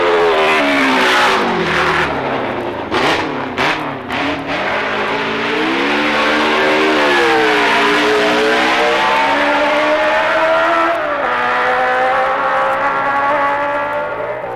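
Racing motorcycle at full speed on a record lap of the Isle of Man TT, a loud continuous engine roar whose pitch rises and falls with gear changes for about fifteen seconds.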